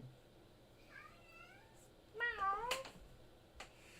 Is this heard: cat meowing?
yes